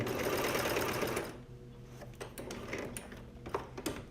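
Brother cover stitch machine sewing a hem, a fast buzzing run of stitching for about a second, then stopping, followed by scattered clicks and handling knocks.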